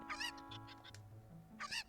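Cucco chickens cluck in Ocarina of Time, a few short bird-like squawks and clucks rising over a steady game background hum, moderately faint.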